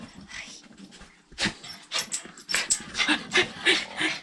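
A dog pants in quick bursts and lets out high, thin whimpers, close and fairly loud, with a quiet stretch before the panting picks up again.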